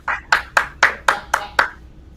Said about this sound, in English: And then big round of applause